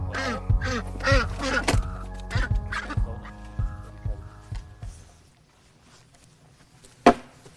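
Two ducks quack repeatedly at close range outdoors before slaughter, a steady run of honking calls that fades out, ending with a single sharp knock.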